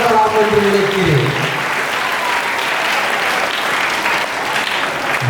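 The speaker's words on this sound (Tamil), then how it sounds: "எனவே முதல் கைத்தட்டல்களை இந்த ஆண் குழந்தைகளுக்கு வழங்கி என்னுடைய உரையை தொடரலாம் என்று நினைக்கிறேன்." Applause for the boys in a school hall during a birthday celebration, loud sustained clapping from a large audience after a brief bit of sound at the start.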